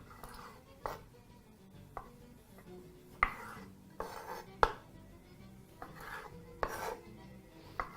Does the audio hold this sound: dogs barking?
no